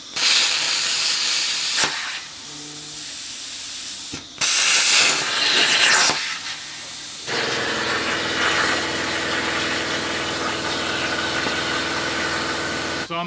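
A Langmuir Crossfire Pro CNC plasma table cuts axle hangers for a Triumph dirt dragster build, giving loud bursts of harsh hissing broken by short pauses, then a long steady hiss over a low machine hum.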